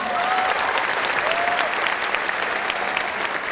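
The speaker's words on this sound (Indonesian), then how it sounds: "Mohon aplaus untuk para pengundang Anda." A seminar audience claps together in steady, dense applause that fills the room evenly for the whole stretch, loud and close, with no speech heard over it.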